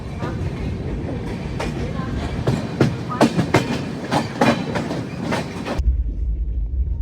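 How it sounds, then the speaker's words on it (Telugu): The Jhelum Express, running from Jammu Tawi to Pune, crosses close by with a loud, rapid clickety-clack of wheels over rail joints that suddenly cuts off near the end. "జమ్ముతావి నుంచి పూణే వెళ్ళే జీలం ఎక్స్ప్రెస్ అయితే క్రాస్ ఓవర్ అవుద్ది ఇప్పుడు."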